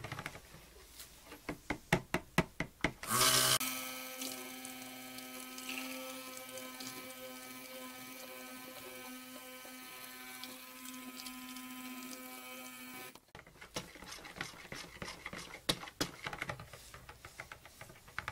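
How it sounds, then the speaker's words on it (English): Cold process soap batter with coconut milk is blended: a few knocks, then a steady, humming motor whir for about ten seconds, followed by more clattering taps and knocks once blending stops. "I'm going to go ahead and get this blended up"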